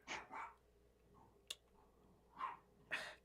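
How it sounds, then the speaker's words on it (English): Several dogs bark somewhere in the background of a podcast recording, a few separate yaps and bursts spread across a few seconds, fairly faint and with no talk over them. "if you guys can hear the dogs, I apologize, but I have no idea what is going on"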